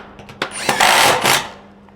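A power drill drives a screw into metal siding on a post frame workshop, a couple of quick trigger taps followed by a loud, roughly one-second whirring burst that winds down, with no talking.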